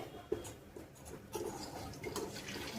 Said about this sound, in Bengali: এবার এই মশলা ধোয়া জলটা একটু গরম জল দিয়ে পুরো ধুয়ে